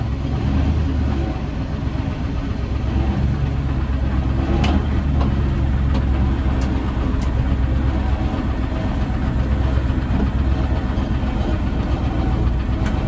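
An International Loadstar truck's large engine idles while warming up, with a steady, low rumbling drone that holds constant throughout, close and fairly loud, with a few faint clicks.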